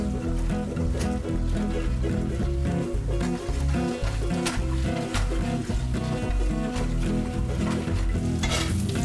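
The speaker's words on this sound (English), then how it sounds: "I have some butter in there and I have those pearl onions, and I'm going to cook those pearl onions in that butter there until they get soft" Pearl onions cooking in butter in a pan until soft, a loud continuous sizzle with frequent stirring scrapes and clinks, close up, with a dense low rumble underneath.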